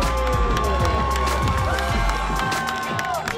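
A home crowd at a varsity high school football game, Belmont Bulldogs against the New West Hyacks, roars and cheers after an interception, with whistles and shouts rising over a steady wash of stadium noise.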